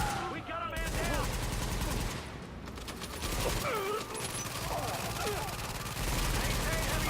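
Gunfire in the video game The Division, sustained bursts of automatic rifle fire with rapid repeated shots, loud and continuous, with voices calling out over the shooting.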